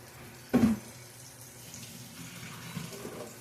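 Water pours and splashes into a sink as cooked potatoes are drained, a short loud burst near the start that fades into a low running background.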